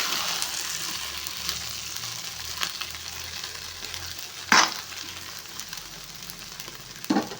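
Wheat vermicelli (gothumai semiya) is stirred in a pan with a soft, continuous sizzle, and a spoon scrapes the pan sharply twice, alone without talk.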